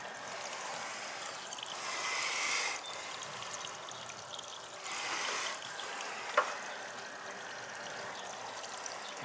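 Water running from a tap into a sink above a basement copper drain pipe repair, a steady distant hiss and rush that swells twice and carries a brief clunk, with no talk.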